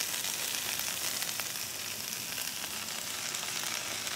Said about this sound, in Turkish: Şimdi göz kararı ıspanağımı, temiz ıspanağımı atıyorum.